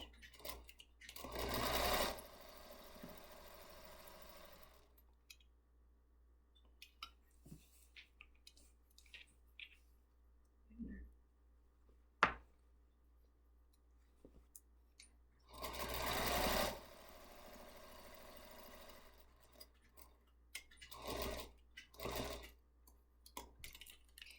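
A sewing machine back stitches a table runner in short whirring bursts, one early, a longer run later, then a brief final burst, with quiet handling clicks and small taps between.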